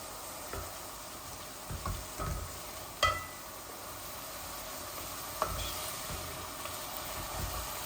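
Chicken masala fries in a pan with a steady, soft sizzle throughout, broken by a few sharper scrapes and clinks of stirring.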